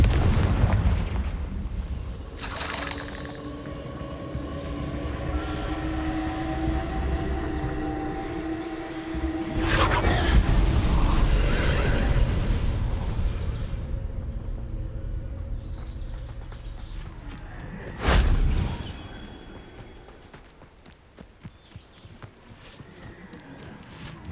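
Fiery Confringo spell blasts in the Hogwarts Legacy video game burst out as several sharp, booming explosions spaced seconds apart over rumbling combat noise, with a final heavy blast before things quiet down.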